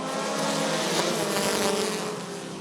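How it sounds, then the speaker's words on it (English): Race cars roar off the start of a heat race at Rockford Speedway, a loud sustained blare of engines that stays strong throughout and eases slightly at the end. "Here they come! Green flag and we're racing!"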